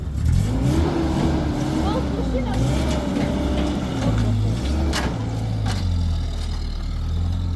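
A car engine drones low and steady while the vehicle drives along, rising and falling slightly in pitch, with voices talking over it throughout.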